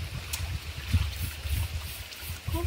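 Clear stream water flows and gurgles at a spot where clothes are being washed, under rainy, windy weather. There is a low, burbling wash close by, with gusty wind noise rising and falling over it.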